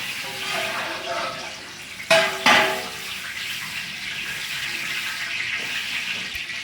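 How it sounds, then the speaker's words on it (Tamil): Whole spices such as cloves, cardamom, mace and fennel dropped into hot oil for tempering, giving a sudden loud sizzle burst midway that settles into a steady frying hiss. "எல்லாத்தையுமே சேர்த்து 10 கிராம் அளவில் தாளிப்பு போடுறோம்"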